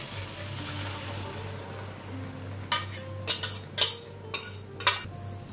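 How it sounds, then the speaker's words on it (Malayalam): Cooked beef for Kerala-style beef ularthiyathu tips into a pan as a run of sharp metallic clinks and scrapes, close by, over a steady low background hum, with no talk. "ഇനി നമ്മൾ വെന്തിരിക്കുന്ന ബീഫ് നമുക്കിതിലേക്ക് ഇട്ട് കൊടുക്കാം."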